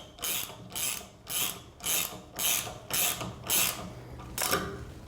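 A wrench turning the threaded stud of a 3-inch pin kit, eight evenly spaced metallic ratcheting clicks and grinding turns, close and moderately loud.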